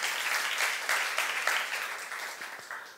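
A church congregation at a youth worship service breaks into brief applause, a dense patter of clapping that swells and then thins out over a few seconds.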